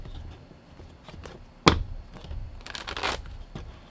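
Oracle cards are shuffled for a tarot reading, soft riffling and sliding with a sharp snap near the middle and a longer brisk riffle after it, close and fairly quiet.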